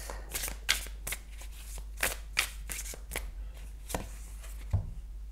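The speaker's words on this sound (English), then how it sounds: "Let's just draw one more card." Tarot cards are shuffled and drawn by hand, giving a run of crisp, close riffling snaps and soft slaps in an irregular rhythm, with no talking.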